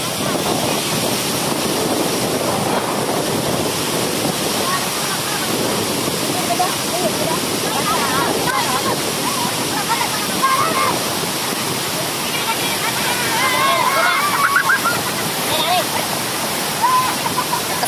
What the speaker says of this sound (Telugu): చూడండి వాటర్ ఎలా వస్తున్నాయో.